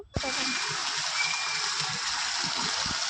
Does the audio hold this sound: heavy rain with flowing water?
yes